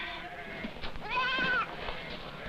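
Herded goats bleating loudly and close by, a few wavering cries running together, with one long quavering bleat in the middle.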